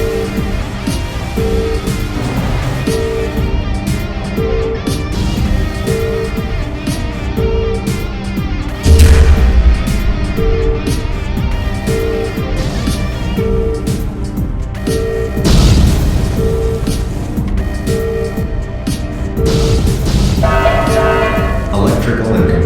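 A reactor core explosion in a power-plant video game, a dense roaring rumble with heavy booming blasts and crashes, under repeating alarm tones and a synthetic warning voice.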